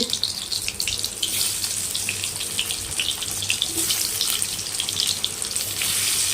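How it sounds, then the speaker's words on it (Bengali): Turmeric-coated potato pieces fry in hot oil in a kadai, giving a steady, close, hissing sizzle that carries on without a break. "আলুগুলো একটুখানি ভালো করে ভাজা হবে আলুগুলো ভেজে নিয়ে আসছি"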